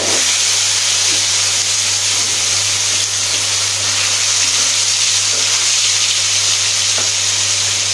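Marinated fish frying in a pan, giving a steady, loud sizzling hiss that runs unbroken throughout with no talking.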